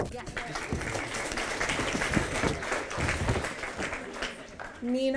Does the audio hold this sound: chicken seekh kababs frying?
no